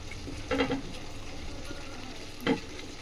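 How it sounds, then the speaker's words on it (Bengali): Fried potatoes and mutton are stirred in a hot pan, with a steady background sizzle broken by two short scraping stirs of the spoon, close and moderately loud, with no talking. "এবার এইটার সঙ্গে একটু ভালোভাবে কষাবো"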